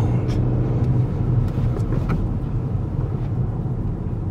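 A 2023 Kia Rio's three-cylinder turbo engine drones steadily with a low, throbby rumble from inside the cabin, with faint clicks and ticks over the continuous hum.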